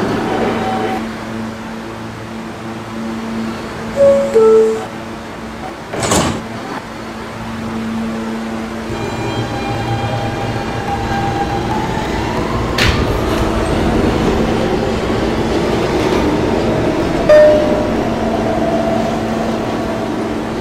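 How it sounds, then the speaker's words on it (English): B train on the New York subway passing 68th Street station, a long steady rumble of wheels and motors with squeals and clanks rising and fading over about twenty seconds. "This is a 78th Street bound B train."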